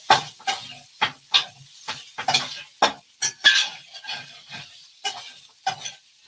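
Leftovers crisping in a pan, stirred in repeated sharp scraping strokes over a steady background sizzle of frying, close and fairly loud with no talking.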